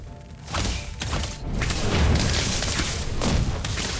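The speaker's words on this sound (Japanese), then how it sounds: "バンバン花火。" Fireworks bursting in the video game Harry Potter: Magic Awakened, a run of loud booming thumps and crackling blasts in quick succession that fill the clip with dense, rumbling explosions.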